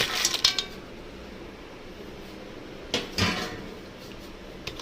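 Cleaned crab pieces tumble into a pan of masala for a Kerala-style crab roast, giving a short clatter of hard shells at the start and another brief knock a few seconds later, with quiet between.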